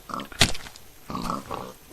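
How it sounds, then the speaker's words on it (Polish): A pig in the Minecraft video game gives several short, close oinks and grunts in quick succession over roughly two seconds, heard alone. "Chodź tu świnio."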